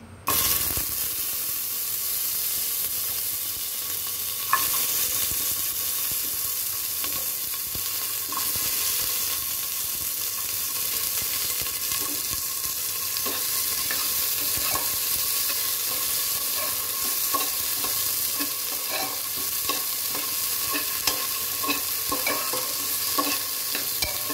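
Vegetables sizzle and fry steadily in a hot pan while a utensil stirs them in repeated scrapes and taps, close and constant with no talking.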